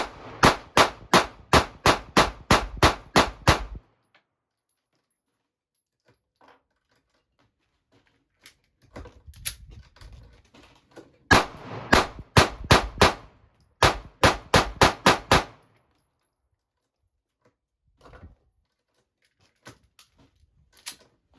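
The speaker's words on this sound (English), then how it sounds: "I'm gonna keep shooting low" Sig Sauer P365 and Springfield Hellcat pistols fire in rapid bursts at an outdoor range, loud sharp reports in quick strings of about eight shots, a pause, then more fast volleys and a few isolated shots.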